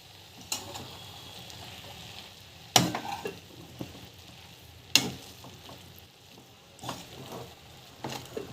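A vegetable stir-fry with idli podi being stirred in a pan, a soft background sizzle broken by occasional sharp scrapes and clanks of the spoon against the pan, with no talk.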